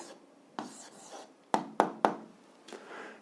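An answer to an algebra exercise written by hand, soft close scratching strokes with a few sharp taps of pen on paper between them.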